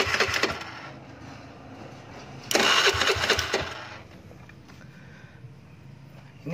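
A carbureted Honda Beat motorcycle engine cranked with its electric starter, a whirring mechanical burst that rises loudly midway and then settles into a rough engine murmur, close by.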